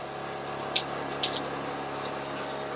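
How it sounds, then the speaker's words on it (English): A water pump for an off-grid shower, mounted on wood that vibrates, hums steadily with a constant buzzing drone while water sprays and splashes faintly above it. "This water pump sounds pretty noisy, but it's just because it's on this wood, vibrating off the, everything's vibrating here"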